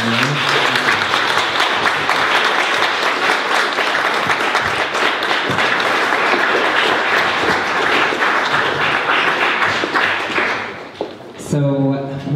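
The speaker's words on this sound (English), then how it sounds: "can we get a big round of applause for everyone?" Loud, sustained audience applause fills the room at a community history event on the Irish trans movement, a dense steady clatter of many hands that fades out near the end as a voice starts speaking.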